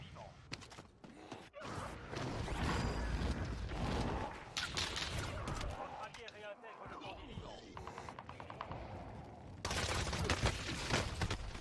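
Gunfire in Call of Duty Warzone: scattered sharp shots and bursts crackling through busy game noise, with someone talking over parts of it and a loud stretch of firing near the end.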